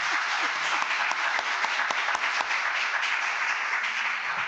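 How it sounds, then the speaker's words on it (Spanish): An audience at a cultural lecture on sex in Roman culture breaks into steady, sustained applause, a dense wash of many hands clapping at moderate distance with no talking over it. "cando aplaudimos para que se emocione o rapaz un pouco"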